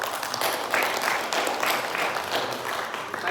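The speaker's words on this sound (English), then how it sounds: "round of applause to both of these gentlemen" A short, steady round of applause from a group honoring two gentlemen at a team meeting, continuous clapping with no talk over it.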